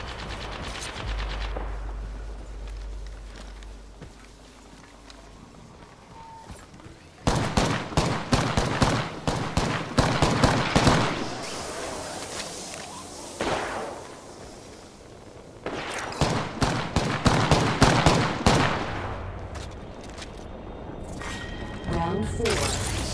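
Video game gunfire in a sorting-factory arena, rapid automatic bursts rattling loudly in two long volleys over a steady background rumble, with brief quieter pauses between.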